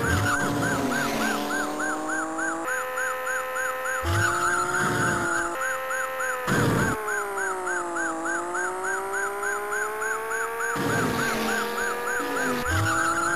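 A car skids and spins in the Amiga game Chase HQ, a steady synthesized engine drone with a warbling siren tone running throughout and brief noisy bursts.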